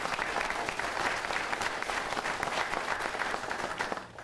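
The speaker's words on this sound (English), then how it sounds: "let's give him a round of applause" Applause from the audience at a school district board meeting honoring a student, sustained full clapping from many hands, loud and even before easing slightly at the end.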